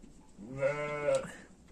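A sheep gives one clear, drawn-out bleat at close range after giving birth to twin lambs, its wavering call lasting under a second in an otherwise quiet setting.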